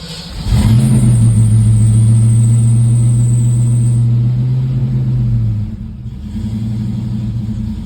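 A car engine cranks and fires up, then holds a loud, steady rev for several seconds before dropping back to a lower idle, alone and close by.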